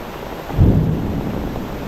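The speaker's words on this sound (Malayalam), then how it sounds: "ഇടി അല്ല ഇടി വെട്ടതാണ്" A low rumbling thunderclap rolls in over steady Kerala monsoon rain and wind noise, deep and heavy, fading into a continuing rumble.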